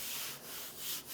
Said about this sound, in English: I'm gonna sand this with a fine sanding sponge, get all this raised grain off of here